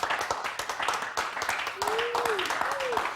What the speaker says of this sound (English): Our youngest Cabinet Minister, round of applause for Wyatt.